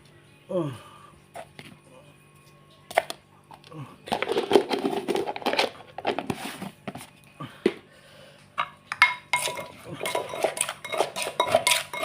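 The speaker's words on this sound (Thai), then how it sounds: "ตำบักทั่วเผ็ดเผ็ดพอได้ซวงไข่เนี่ยครับผม" Spicy long bean salad is pounded in a mortar, with hard clattering knocks and scraping that come in uneven bursts, close and fairly loud, partly mixed with voices.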